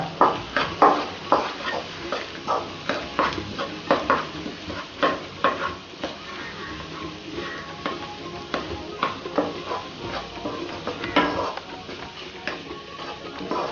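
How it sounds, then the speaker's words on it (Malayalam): Egg is stirred and mixed with onions in a pan for an egg roll filling, a quiet sizzle under a rhythmic series of scraping and tapping spatula strokes against the pan, regular at first and then looser. "നമുക്ക് ഈ ഉള്ളിയായിട്ട് മിക്സ് ആക്കാം ഈ മുട്ട."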